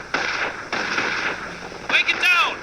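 Mortar and battlefield fire in the World War II strategy game Company of Heroes, with German Wehrmacht forces fighting at Lyon: dense, sustained rumbling gunfire and blasts, ending in a sharper burst of crackling, whistling effects.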